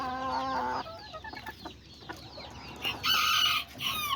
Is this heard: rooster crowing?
yes